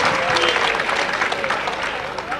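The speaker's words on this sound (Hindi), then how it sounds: "अच्छा लगे तो तालियों से बताते" An audience at a Hindi poetry gathering (kavi sammelan) claps loudly and steadily throughout, the dense applause running under a voice.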